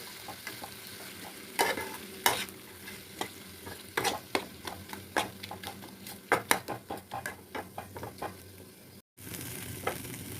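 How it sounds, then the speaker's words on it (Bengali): Spice masala with salt and turmeric fries in a pan for a potol chingri dish, a close sizzle punctuated by repeated sharp scraping stirs and spatula knocks, briefly cutting out near the end. "মশলাটা আমার ফ্রাই হচ্ছে এই মুহূর্তে"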